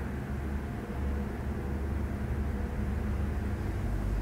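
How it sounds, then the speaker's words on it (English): A steady low roar of highway traffic just outside, continuous and broadband, with no talking over it. "I don't know if you can hear it, but the highway is just outside."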